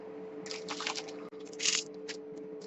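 Anhydrous calcium chloride granules being poured into a laboratory flask, two brief bursts of gritty, crunching rattle over a steady low hum, close and fairly quiet.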